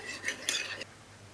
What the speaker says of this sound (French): On ajoute la gélatine et on mélange avec la cuillère.